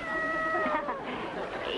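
A cat gives a drawn-out, wavering meow in an office scene of an old radio comedy, heard close and clear over faint background hiss.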